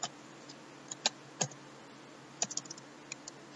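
Code is being typed on a computer keyboard in short, irregular bursts of crisp, close clicks separated by brief pauses, with a few louder key strikes standing out and no talking.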